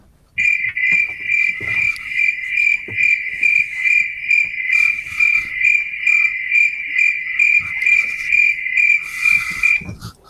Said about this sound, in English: That's what you're gonna fucking hear. Crickets.